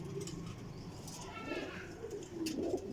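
Desi Sialkoti pigeon, a female, giving soft low cooing calls up close against a noisy background, with a brief rustle near the end.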